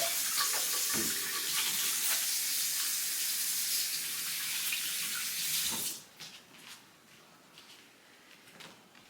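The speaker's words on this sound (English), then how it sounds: "Let me wash my hands real quick" Tap water runs steadily into a kitchen sink as hands are washed during home cooking of a chicken pot pie, a loud continuous splashing hiss that cuts off abruptly partway, leaving faint handling clatter.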